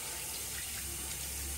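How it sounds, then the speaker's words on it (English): Tap water running steadily into a sink while a safety razor is rinsed, a constant close splashing hiss. "I'm rinsing my razor off here and just regular water"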